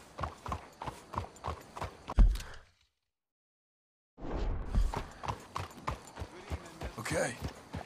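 Steady clip-clop of horse hooves at a walking rhythm in the video game Red Dead Redemption 2, close by, pausing briefly in the middle before resuming.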